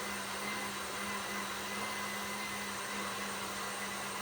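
An electric beater whipping cream: a steady, continuous motor whine with a constant hum, fairly faint and unchanging throughout.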